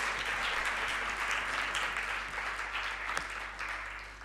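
Continuous crowd clapping at a formal lecture event, a broad wash of many hands that stays even and then gradually fades toward the end, over a faint steady electrical hum.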